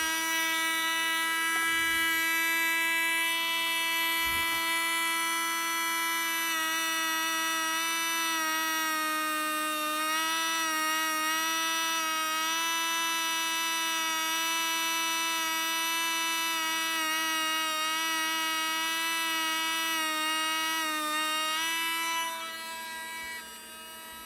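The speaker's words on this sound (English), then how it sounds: "with the Dremel, I'll be able to bring them down" A Dremel rotary tool sands the edges of a mask with a steady high-pitched motor whine. The pitch wavers slightly as it bites into the material, runs continuously for over twenty seconds, then winds down at the end.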